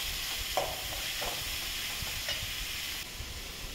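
Garlic and four large chopped onions sauté in a pan with a steady, close sizzle, broken by a few soft scrapes of stirring and no voices.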